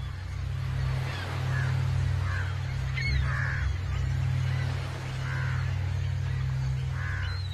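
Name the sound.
crows calling on the beach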